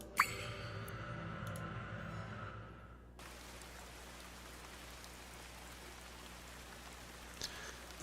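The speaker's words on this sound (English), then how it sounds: "The non-stop rain pelted the leaves of the trees." Steady, non-stop rain pelting tree leaves in the visual novel Her World, a dense even patter heard alone, with a brief overlap of another game sound at the start before the rain settles in.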